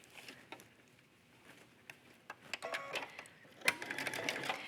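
A sewing machine runs stretch thread through fabric for a wrap skirt on leggings, starting with faint intermittent clicks and then building into a quick, close mechanical patter of stitching.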